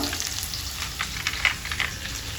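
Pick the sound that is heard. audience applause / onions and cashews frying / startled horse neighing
onions and cashews frying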